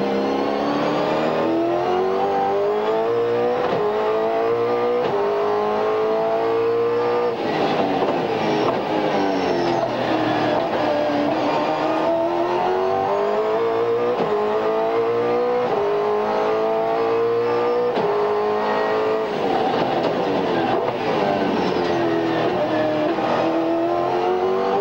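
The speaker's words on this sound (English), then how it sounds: "let's have a listen and ride with Greg Murphy in the Kmart Commodore" Onboard a Kmart Holden Commodore V8 Supercar racing at Winton in 2001, its V8 roaring continuously with rising and falling revs through gear changes, loud and close throughout with no talk.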